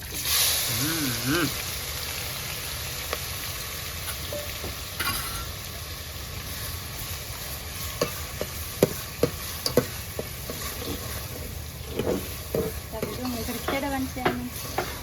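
Green chili, ginger and onion hit hot oil with asafoetida, giving a bright, steady close sizzle with occasional stirring clicks and scrapes, and a voice briefly speaks over it.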